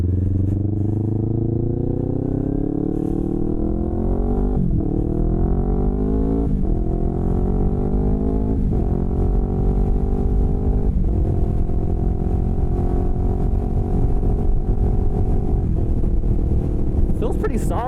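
A rebuilt Yamaha R3 motorcycle is ridden, its engine droning loudly and climbing in pitch through several gear shifts, each marked by a brief dip, under constant wind rush.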